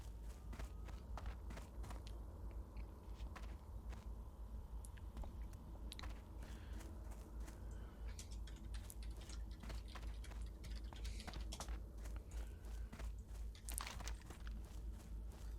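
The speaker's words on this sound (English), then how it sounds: "just hear like the simple crunch on the gravel" Footsteps crunching on gravel in World of Warcraft: Burning Crusade Classic, a steady run of crisp crunching steps over continuous game ambience, moderately close, with no talking.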